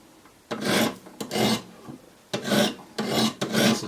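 A Benchmade 710 knife blade is drawn across Wicked Edge diamond sharpening stones in five distinct rasping strokes separated by short pauses, close and fairly quiet.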